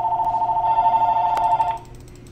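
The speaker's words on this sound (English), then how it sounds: "Phone call, John Cena." A phone rings in a wrestling video game with a steady electronic trill, clear and fairly loud. A brief click comes near the end, then the ring stops abruptly and only a quiet background remains.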